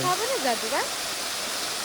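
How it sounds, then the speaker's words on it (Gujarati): A strong water fountain sprays over a Mahadev idol at a Hindu temple, giving a steady broadband rushing hiss throughout, with voices briefly heard over the spray at the start. "મહાદેવની માથે ફુવારા જાય છે પાણીના જોરદાર"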